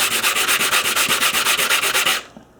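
Rapid, steady back-and-forth strokes of 400 grit sandpaper rubbing on a part during S2000 rear end work, loud and close with about twenty even passes before stopping abruptly.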